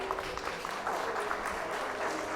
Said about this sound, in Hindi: बिल्कुल सही है, जोरदार तालियां।